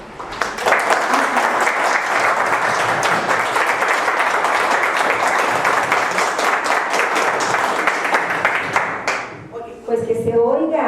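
Loud, sustained audience applause fills a conference hall after a question-and-answer session, dense clapping running steadily before cutting off near the end, where a voice begins to speak.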